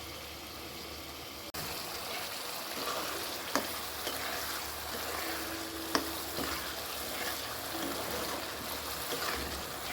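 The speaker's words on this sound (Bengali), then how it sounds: "মশলাটা অবশ্যই সময় নিয়ে কষাতে হবে" Spice masala for a raw jackfruit curry fries in oil with a constant soft sizzle, broken by a few sharp spatula knocks against the pan, no one speaking.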